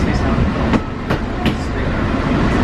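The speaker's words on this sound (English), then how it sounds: "We're approaching the Epcot Monorail station." Walt Disney World monorail train rolling into the Epcot station, a steady loud rumble of rail car running noise with a few sharp clicks and squeaks from the track, no talking.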